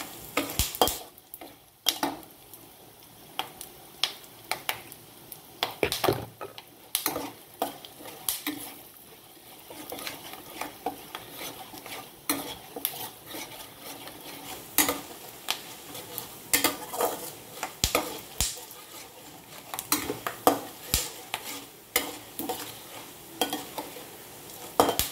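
Spices such as bengal gram, peanuts and asafoetida fry in hot oil while being stirred, with scraping strokes and clinks of a utensil against the pan breaking through a steady low sizzle, close up and without voices.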